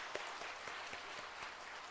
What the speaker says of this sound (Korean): 박수로 한번 격려 한번 해주시기 바랍니다.